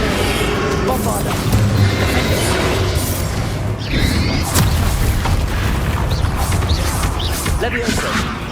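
Bombarda blasting spells booming in Hogwarts Legacy combat, a dense loud stretch of crashing impacts and thuds mixed with clashing battle effects throughout.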